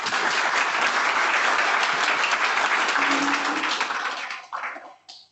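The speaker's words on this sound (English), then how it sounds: "All right, another round of applause." An audience at a tech meetup claps in a dense, sustained burst of applause that stays loud, then thins out and tapers to a few scattered claps near the end.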